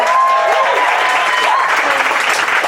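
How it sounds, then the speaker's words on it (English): A theatre audience claps steadily and loudly after a musical number, a dense sustained applause with a few faint whistles or cheers. "You're going to have to clap for a lot longer, I'm just warning you."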